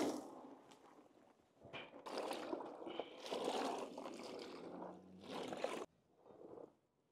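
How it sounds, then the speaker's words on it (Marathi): Okra for a village-style dahi bhindi masala is washed in clean water, giving uneven bursts of splashing and trickling that rise and fall over several seconds before stopping. "भेंडी आता आपण स्वच्छ पाण्याने धुवून घेऊ"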